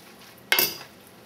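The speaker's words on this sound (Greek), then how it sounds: "Ανακατεύουμε τώρα τα μακαρόνια με το μπέικον." Spaghetti and bacon being stirred in a pan for carbonara, a single brief scrape and clatter of utensil against the pan rising suddenly from a quiet kitchen and fading within a few tenths of a second.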